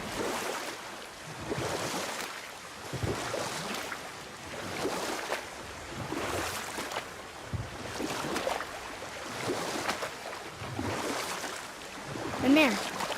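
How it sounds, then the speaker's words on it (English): Oars splash rhythmically as a boat is rowed through water in the video game God of War, with waves and wind in the background and a voice talking over the strokes. "Boat under the bridge, keep rowing towards the statues of the oarsmen,"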